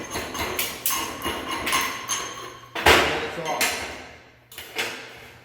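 Light hammer taps knocking dross off steel plate freshly beveled with an oxy-acetylene torch, a series of small sharp metallic knocks in an irregular rhythm, one louder hit in the middle, close by with faint background room noise.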